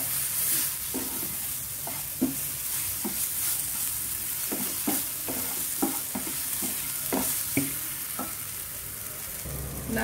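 Dal palak curry with garam masala stirred in a pan over a steady frying sizzle, a spoon scraping the pan in repeated short strokes, close and fairly loud.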